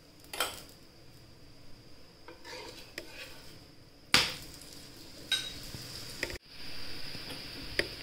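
Oil is poured onto a bottle gourd paratha on a hot pan and crackles in sudden sizzling bursts. Scattered clinks and scrapes of utensils fall between the louder flare-ups, all heard at close range.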